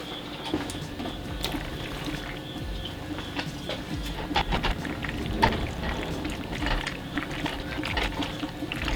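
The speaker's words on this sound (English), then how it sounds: "So I'm going to strain the pasta, add it to the sauce." Cooked pasta for a vegan pumpkin mac and cheese pours into a strainer, water splashing and trickling steadily for several seconds, with a few louder splashes, close and unvoiced.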